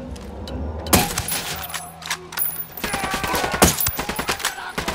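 Gunfire in Ghost Recon Wildlands cracks out in a rapid burst of sharp, loud shots, a quieter stretch followed by repeated automatic fire with metallic clinks between reports.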